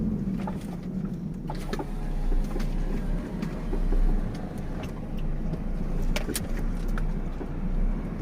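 A Ford F-Max truck rolls slowly onto a weighbridge, its diesel engine a steady low rumble from inside the cab, with faint rattles and clicks over the drone and no voices.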